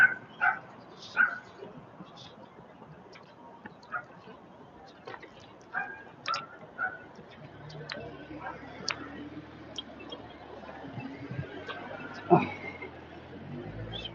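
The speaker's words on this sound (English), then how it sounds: "Dogs are barking." Dogs bark in scattered short yips at a distance, with quiet outdoor ambience and some faint voices in between.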